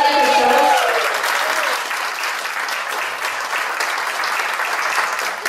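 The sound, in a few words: audience applause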